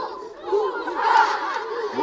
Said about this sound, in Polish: Czy buzia może zrobić takie głośne okrzyki? Hu, ha!